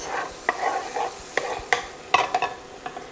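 Ground beef hamburger patties frying in a hot pan, an even sizzle broken by sharper crackles and a few spatula scrapes, close and fairly loud, with no voice.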